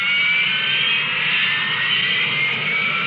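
Harrier jump jet engine roaring steadily at close range, a loud continuous jet whine and rush that holds level for about three seconds with no other sounds.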